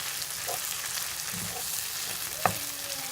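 Chicken simmers in a pan with tomato paste and a splash of water for a Pakistani-style base, giving a steady, dense sizzle with a few soft stirring scrapes and one sharp clink of a utensil.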